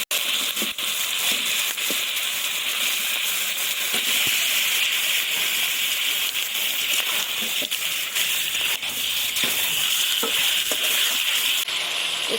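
Chicken pieces fry with onion paste for chicken korma, a dense, continuous hissing sizzle steady throughout, punctuated by frequent scraping and clacking strokes as the mixture is stirred in the pan.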